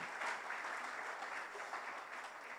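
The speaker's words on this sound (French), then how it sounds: "Clap for yourself." Congregation applauding throughout a church service, a steady wash of many hands clapping at close range with no pauses and little else beneath it.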